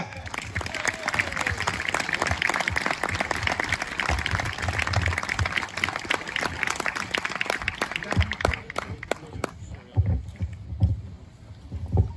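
A crowd at a French political speech breaks into sustained applause welcoming Philippe Murer, dense rapid clapping filling the space for several seconds before thinning out toward the end.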